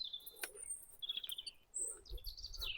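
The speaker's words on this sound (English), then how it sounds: "Hear the birds" Small birds chirp and tweet in scattered, high calls, fairly faint and spaced out against a quiet outdoor background near monastery ruins in Germany.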